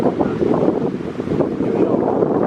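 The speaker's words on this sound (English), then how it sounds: "A little windy out." Gusty outdoor wind buffets the microphone in a steady, loud rumble throughout, with a faint impression of water or waves beneath it, during a small fire-starting demonstration with pine resin.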